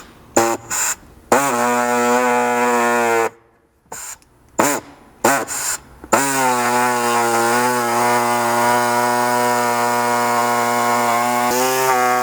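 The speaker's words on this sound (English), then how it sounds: "that doesn't cut super easily with my air saw. And then I'll jump back to this to finish up the cut on the plastic." A handheld air saw cuts a plastic overhead panel inside a Ford Bronco, loud buzzing reciprocating bursts that start and stop several times, then run in one long steady stretch, close up.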